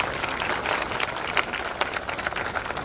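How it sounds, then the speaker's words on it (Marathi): Crowd clapping to welcome a guest at a large Buddhist gathering in Bhiwandi, India, steady dense applause with scattered sharper claps throughout. "आपण सर्वांनी टाळ्या वाजवून साहेबांचं स्वागत करायचं आहे"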